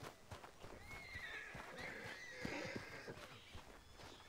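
A horse neighs in the Red Dead Redemption 2 video game, a faint, drawn-out whinny mid-clip over soft hoof clops and low background game sound.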